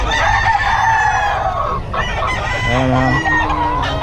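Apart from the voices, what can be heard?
roosters crowing and clucking in chicken coop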